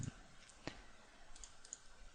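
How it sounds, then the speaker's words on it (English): Faint, sparse clicks of computer keyboard keys pressed for a Control C copy shortcut, heard over a low steady background hiss. "Control C on the keyboard, and see if I can copy them"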